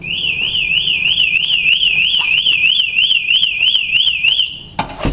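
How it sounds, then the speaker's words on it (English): A loud electronic door alarm warbles continuously in a rapid up-and-down tone, close by, then cuts off with a clunk near the end. "Now this alarm will sound, but don't worry."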